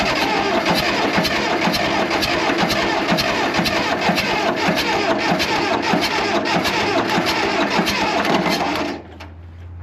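An Allis Chalmers 644 articulated forklift, left sitting over ten years, cranks over loudly and steadily for several seconds with a fast rhythmic chug, then the starter cuts out and the engine drops to a low idle.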